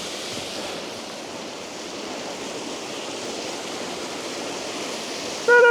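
A waterfall in Glenariff Forest Park rushes as a steady, broad hiss of falling water, continuous and fairly close, with a brief louder sound at the very end.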